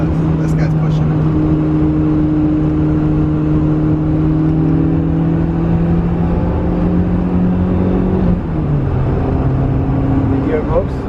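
A BMW E30 M3 Sport Evo with a 2.5-litre engine pulls hard on the road, a loud sustained engine drone rising in pitch before a gear change, heard from inside the car.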